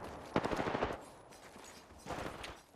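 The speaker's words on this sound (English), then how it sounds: "They're shooting it." Gunfire in a shooter game: two short bursts of rapid, fairly faint automatic shots, the first around the opening second and the second near the end, with muted background between.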